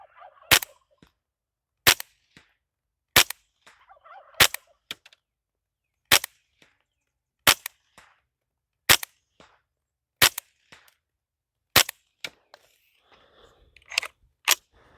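A .22 rifle fitted with a Silencerco Sparrow suppressor fires about eleven sharp, clipped shots at a steady pace roughly every second and a half, each a crisp crack followed by quiet.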